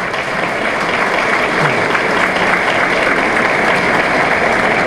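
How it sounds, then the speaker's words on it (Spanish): An audience at a state youth awards ceremony in Mexico claps in a dense, sustained, loud round of applause that fills the room from start to finish. "también un fuerte aplauso"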